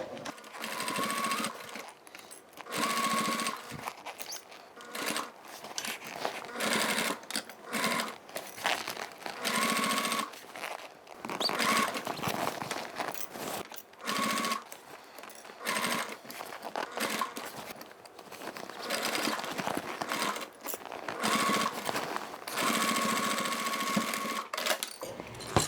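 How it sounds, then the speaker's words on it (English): A sewing machine stitches through all the layers of a Suzi toiletry bag in steady rapid bursts, with brief pauses and restarts between runs, close and clear and with no talk. "So I'm sewing through all the layers."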